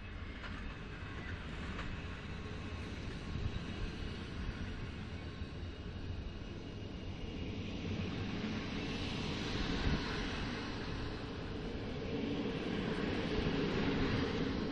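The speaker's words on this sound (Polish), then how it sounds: "O, pociąg już odjeżdża." A train rumbles steadily at Ropczyce station in Poland, its low mechanical drone slowly building in strength as it pulls away, with no voices over it.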